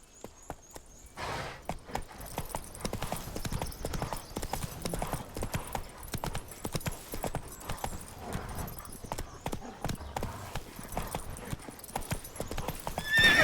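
Horse hooves clip-clopping at a steady gallop in the video game The Witcher 3, with occasional neighs and whinnies over a continuous rhythmic drumming of hoofbeats throughout.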